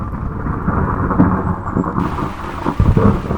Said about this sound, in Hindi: देहरादून में बारिश के मौसम की शुरुआत हो चुकी है।